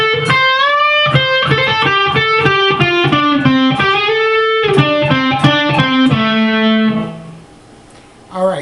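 Distorted electric guitar playing a lead, a rapid run of picked notes descending in pitch, loud and alone, ending on a sustained note that fades out.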